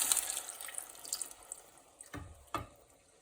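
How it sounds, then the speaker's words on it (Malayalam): Tamarind water is poured into a pot of rasam, making a light splashing trickle. Two short thuds follow near the end. "തയ്യാറാക്കി വെച്ചിരിക്കുന്ന പുളിയുടെ വെള്ളം ഇങ്ങോട്ട് ഒഴിക്കുക."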